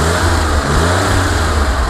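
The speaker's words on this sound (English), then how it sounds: "I like the way that dual exhaust sounds on these cars." A 1962 Chevrolet Corvair Monza air-cooled engine revs loudly through dual exhaust, a close, deep throaty drone that holds steady for the whole moment.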